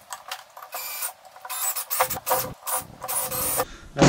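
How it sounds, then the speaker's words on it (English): Self-tapping screws are driven into the plates of a budget X-Class quadcopter frame, giving a close, loud, whirring and grinding mechanical sound in several bursts of varying length with brief pauses between, without talk. "To mount the plates, I just use self-tapping screws."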